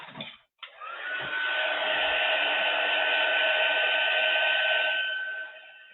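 A heat embossing tool blows a steady, loud whir as it melts black embossing powder, starting after a brief click and holding for several seconds before tapering off.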